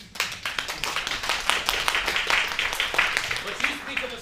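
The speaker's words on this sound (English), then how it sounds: "please, applause." Theater audience at a stage play by an amateur troupe breaks into applause, a run of crisp, fairly regular claps, moderately quiet and close.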